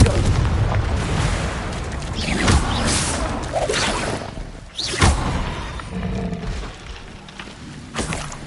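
Explosive bursts from the Confringo fire spell cast in the Hogwarts Legacy game on PS5, several loud booming blasts at irregular intervals over a dense, rumbling background of game effects.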